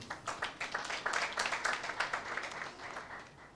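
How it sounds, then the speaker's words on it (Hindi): An audience at a Hindi Christian church service claps for a sister, with fairly quick, irregular rapid clapping that swells and then slowly tapers off, heard at a moderate distance. "सिस्टर के लिए ताली बजाएंगे।"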